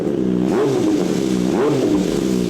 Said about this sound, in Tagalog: So, yan ang tunog ng championship exhaust natin from V-Lane.